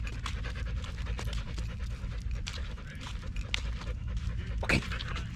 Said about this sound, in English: You could hear the dog snorting and stuff.